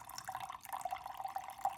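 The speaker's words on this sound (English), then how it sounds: "So you're going to pour it nice and slow." Cowboy coffee trickles slowly from the pot in a soft, steady pour with faint dripping, quiet and close.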